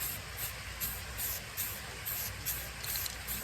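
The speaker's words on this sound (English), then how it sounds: "I'm going to point my spray paint so that it hits about right here" Short hissing bursts from a spray paint can touching up a tumbler, pulsing in a quick, even rhythm of about seven sprays, close by with no voices.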